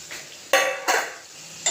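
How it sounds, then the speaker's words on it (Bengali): Peas dropped into a pan of cooking spices and stirred, giving a few sharp scraping, clattering bursts of spoon against pan at close range with quiet gaps between. "এবারে আমি মটরটা দিয়ে দিলাম"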